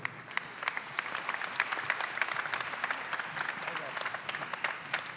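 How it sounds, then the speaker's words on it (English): Applause from the audience at a peace prize ceremony, steady crisp clapping from many hands at moderate distance, with sharp individual claps standing out, sustained for several seconds. "Let's give him another round of applause for all the amazing work he's done."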